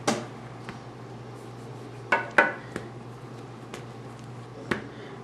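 A cleaver striking a wooden board while splitting steamed meat bun dough into four pieces: a handful of sharp, separate knocks spaced unevenly over a few seconds, close and fairly quiet against a low steady hum.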